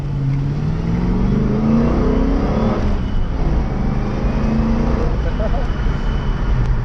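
A 1985 Corvette accelerates hard, its engine roaring with rising and falling pitch as it pulls through the gears, loud and close for the whole stretch, with no talk heard.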